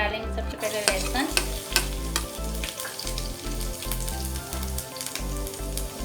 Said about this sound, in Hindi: ऑयल गर्म हो चुका है, इसमें डालेंगे सबसे पहले लहसुन।